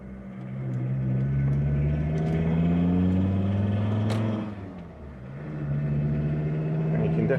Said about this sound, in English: you can definitely hear the exhaust a little more than the engine for a change with the window open